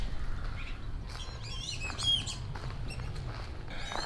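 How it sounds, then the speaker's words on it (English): Sharp, high distress calls of a whistling duck break out over a steady low rumble, a few agitated chirps and squawks clustered in the middle, fairly close, at a wetland. "I think that was a whistling duck in distress."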